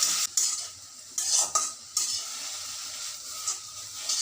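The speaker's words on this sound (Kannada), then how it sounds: "ಅದು ಎಳೆಯದಾಗಿದ್ದರೆ ಅದನ್ನು ಹುರಿದ್ಬಿಟ್ಟು ಚಟ್ನಿಗೆ ಹಾಕ್ಕೋಬೋದು" Coriander stems roasting in a pan for chutney, with a spoon stirring and scraping in close bursts over a soft, steady sizzle and no voices.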